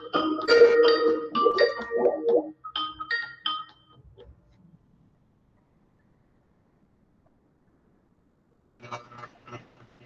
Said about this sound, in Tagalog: Tinawagan pa ni Vinci.